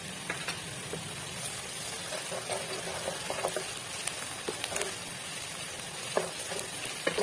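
Garlic sizzles and crackles in a pan of onions that are starting to brown, for aloo methi sabzi, a steady close frying hiss throughout with small pops and stirring scrapes, no talking.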